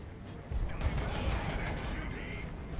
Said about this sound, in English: Here's that second Chaos Dreadnought with that auto cannon up